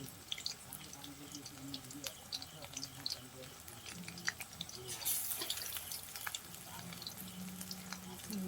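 Bhola fish chops fry in a wok with a soft, continuous sizzle and scattered pops and crackles, fairly faint, with a bright hiss swelling briefly near the middle.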